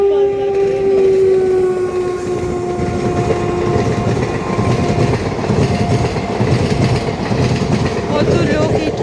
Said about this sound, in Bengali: দূরপাল্লার ট্রেন আসছে।